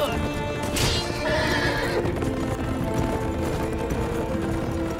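Horse galloping in the Game of Thrones video game, with a loud close whinny over a steady rapid clip-clop of hooves and background action noise.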